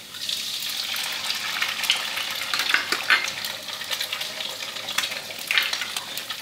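Egg frying in a stainless steel pan while making canned-fish fried rice, a steady close crackling sizzle with occasional stirring scrapes and no talking.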